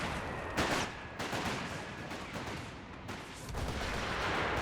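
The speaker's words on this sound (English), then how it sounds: "Some artillery's getting dropped down by the recce section" Artillery shells from a recce section pound the battlefield in a Company of Heroes 3 three-versus-three match, heavy booming blasts and crackling gunfire rolling one after another with a continuous rumbling din between impacts.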